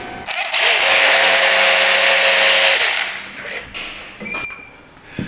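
A power tool whirs loudly for about three seconds while unbolting a belt tensioner on a 2012 Buick LaCrosse Hybrid, followed by fainter clanks and short tool bursts nearby.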